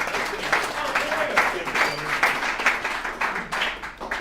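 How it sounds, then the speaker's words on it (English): A crowd at a recovery alumni meeting claps for a guest speaker, dense steady applause at moderate volume for a few seconds, with a voice partly audible beneath it. "Let's give him a round of applause."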